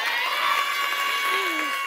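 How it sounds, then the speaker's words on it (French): At a French-language school debate contest, the audience cheers loudly and applauds, with whoops and shouting voices layered over the clapping throughout. "Applaudis Shreya bien fort."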